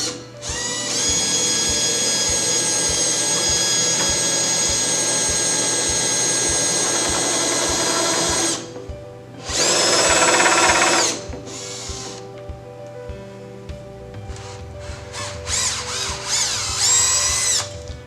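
A power drill bores pilot holes into an elevator hoistway door to fit a Waupaca Plexi Space Guard, with a stop set on the bit. The drill runs loud and steady for about eight seconds, then comes back in several shorter bursts.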